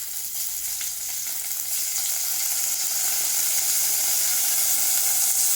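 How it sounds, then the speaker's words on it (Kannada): Garlic paste added to a hot pan for spicy rasam, giving a loud, close, continuous sizzle and hiss that stays steady and builds slightly, with no voices. "ಬೆಳ್ಳುಳ್ಳಿ ಪೇಸ್ಟ್ ಹಾಕ್ತಾ ಇದ್ದೀನಿ"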